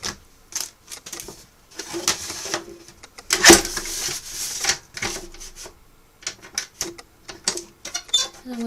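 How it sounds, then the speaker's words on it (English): A paper trimmer chops through paper for a shopping-list pad craft project, giving a series of sharp, close, irregular clacks and slicing snaps with short pauses between cuts. "I'm going to cut this on the machine, on the paper trimmer."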